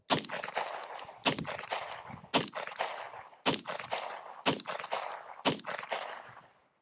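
A Colt King Cobra revolver fires single-action shots outdoors, six loud sharp reports spaced about a second apart, each followed by a ringing decay, with no talk.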